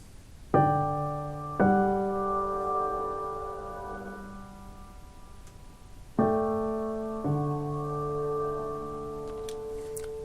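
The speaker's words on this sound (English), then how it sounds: "it's played by the piano and it sounds like this" A sampled piano (Native Instruments Una Corda) plays a sparse, simple melody of a few sustained notes and chords, each left to ring and fade, with no other sounds.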